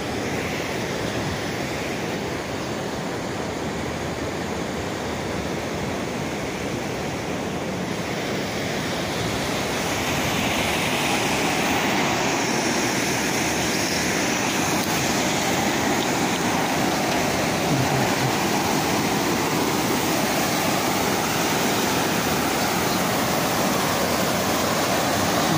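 Waterfall water falling steadily near an iron bridge in Santo Antônio de Pádua, a loud, continuous broadband rush that swells slightly partway through, with no voices.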